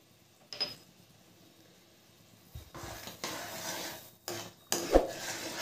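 Cardamom powder is stirred into bubbling sugar syrup in a pan, giving intermittent scraping and clinking of a spoon against metal in short separate bursts with quiet gaps between them.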